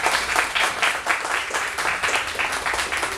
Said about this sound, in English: everybody gives him a big round of